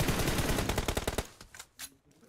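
Video game gunfire rattles out in a fast, loud automatic burst, then breaks into a few scattered single shots that trail off quieter.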